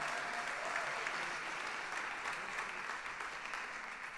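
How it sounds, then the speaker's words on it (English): An awards-ceremony audience in Los Angeles applauds an honoree, Bailey Munoz, with a steady, full wash of clapping that holds evenly throughout. "another round of applause for Bailey Munoz"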